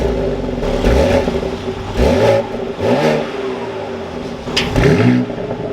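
A 2023 BMW X3 M Competition engine fires up and revs in several sharp bursts, each rising and falling back to idle, loud and close with no talking.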